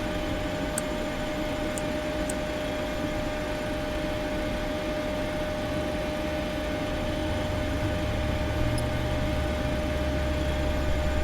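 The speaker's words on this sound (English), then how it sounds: "Start number 2 engine." Cabin recording aboard a Ryanair jet at night: a steady broadband roar and hum with a tonal whine, swelling slightly near the end as the number 2 engine spools up.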